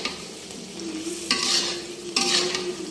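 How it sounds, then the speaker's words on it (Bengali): Vegetable curry with potatoes, pointed gourd, lentil dumplings and egg stirred and sizzling in a pan, with a steady frying hiss and two louder scraping stirs close by. No one speaks. "এখন খুব ভালো করে সব মিশিয়ে দিচ্ছি আর ভালো করে একটু কষিয়ে নিব"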